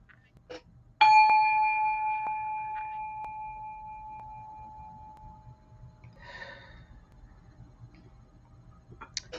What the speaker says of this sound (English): do the bell.